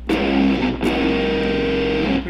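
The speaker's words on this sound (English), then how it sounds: "Pretty nasty sounding chords." Two sustained, harshly distorted dissonant chords, played for a dark metal-style composition, each struck sharply and left ringing, with a brief break between them and no talking.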